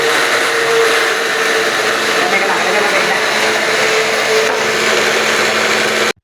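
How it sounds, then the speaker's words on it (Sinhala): A kitchen blender grinds biscuits into crumbs for a cake, a loud, steady whirring roar that runs without a break for several seconds before cutting off abruptly. "මෙහෙම බ්ලෙන්ඩර් එක තියලා මෙහෙම බොටන් එක දාන්න ඕනේ"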